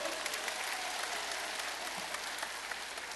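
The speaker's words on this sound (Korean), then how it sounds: "박수 한번 보내주십시오." A crowd applauds at a political book-launch rally for a presidential candidate in Cheongju, a sustained, even roar of many hands clapping that fills the whole stretch without speech on top.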